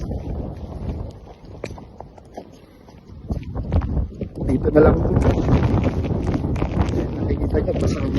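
Strong gusty wind with rain in a Greenland snowstorm, roaring and buffeting against the microphone and rising louder midway, while someone talks over it.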